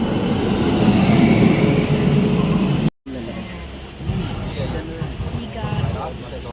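A slow passenger train rumbles along at a railway station in Kochi, Kerala: a loud, steady roar that cuts off abruptly, then resumes as lower, rumbling rolling noise with some shifting clatter.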